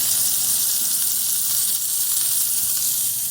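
Sausage patties sizzle in two frying pans, a dense, steady hiss of browning meat filling the kitchen close up with no pauses and no talk.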